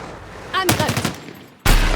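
Battlefield 6 video game gunfire: a burst of rapid automatic shots that stops, followed after a short gap by a sudden loud blast of continuous fire, close and dominant with no speech over it.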